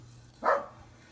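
A single short dog bark sounds faintly in the distance against a quiet background hum.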